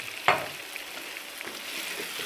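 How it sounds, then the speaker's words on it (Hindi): Potatoes frying in a spiced masala, a steady close sizzle opening with one sharp crackling burst as they hit the pan, then settling to an even hiss with no speech. "अब इस मसाले में मैं पहले आलू फ्राई करूँगा।"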